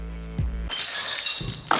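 Glass object shattering on a hard floor during a beauty photo shoot, a single sharp crash with bright scattering shards and a brief tinkle at the end, close and loud.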